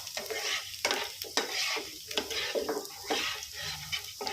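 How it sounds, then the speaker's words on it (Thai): Garlic sizzles and crackles in hot oil in a pan close by, broken by repeated scraping stirs of a utensil. "ใส่น้ำมันไปหน่อยแล้วก็ใส่กระเทียมลงไปเจียวให้หอมนะครับ"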